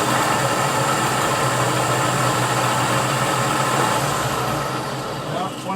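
A Team Associated DR10 RC drag car motor held at full throttle on a dyno test, a loud, continuous high whine that stays steady for several seconds and drops slightly at the end.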